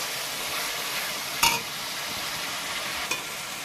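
Spice paste for a koi fish and cabbage curry fries in a pan with a steady, close sizzling hiss, broken by two short clinks of stirring.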